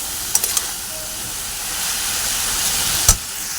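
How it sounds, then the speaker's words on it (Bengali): Leafy greens frying in a pan, a steady broad hiss of steam and sizzle that runs evenly throughout, with a few faint clinks near the start and one brief knock toward the end. "এইভাবেই ভেজে নেবো সেদ্ধ হওয়া পর্যন্ত ভালো করে তো চলো শাকটা ভাজা হোক"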